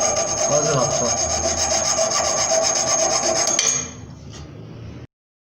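Hand saw cutting through a car exhaust pipe, a continuous close rasping stroke-after-stroke metallic scrape that changes as the blade breaks through, followed by a quieter ringing tail.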